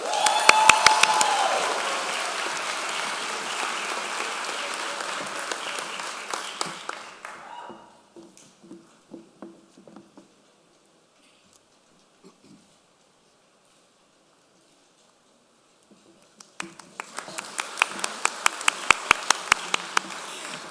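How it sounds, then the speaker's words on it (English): Audience applause at a medical school commencement awards ceremony, loud sustained clapping that fades to near silence midway, then swells back with sharp individual claps toward the end. "A big round of applause for all the awardees"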